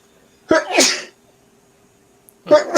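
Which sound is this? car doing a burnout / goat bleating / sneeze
sneeze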